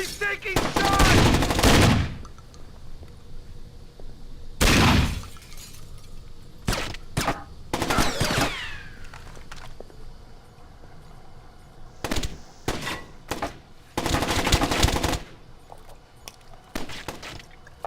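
Gunfire in the Splinter Cell Chaos Theory video game comes in loud, sharp bursts, some long and some short, spread unevenly with quieter stretches between them.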